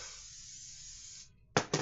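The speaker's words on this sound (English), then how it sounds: "I gotta spray my feet, boys and girls." A spray bottle mists someone's feet. A faint, steady hiss gives way to two short, sharper spray bursts in quick succession, close and quiet, with no talking.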